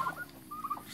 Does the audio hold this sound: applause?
no